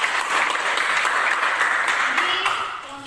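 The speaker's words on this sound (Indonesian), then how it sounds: "kita berikan aplaus untuk kelompok" An audience applauds a group after its presentation with dense, steady clapping that lasts about three seconds and thins out at the end.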